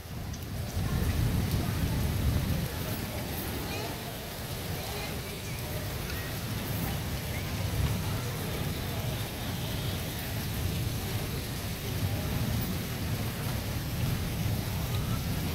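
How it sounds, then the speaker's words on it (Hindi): Steady, dense nighttime rainfall in Karachi pours throughout, with low rumbling thunder rolling beneath the downpour. "इतनी तेज़ गरज चमक के साथ जो है वो बारिश हो रही है।"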